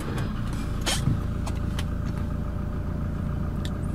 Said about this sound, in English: Very nice startup